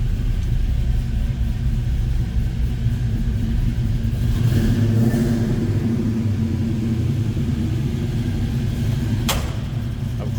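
A fuel-injected engine in a 1970 Chevrolet C10 shortbox pickup rumbles loudly and steadily nearby, its revs rising briefly partway through, with a sharp click near the end.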